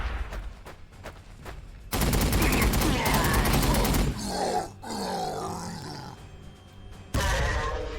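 Rapid gunfire in the Warhammer 40k Sanctus Reach video game erupts as reaction fire, with a dense loud burst of automatic shots lasting about two seconds, then rumbling battle noise and another sudden volley at the end.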